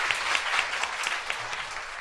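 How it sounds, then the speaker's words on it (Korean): An audience at a talk gives a short burst of applause, a fairly faint, steady patter of hands heard from some distance for about two seconds. "박수 한번 주세요."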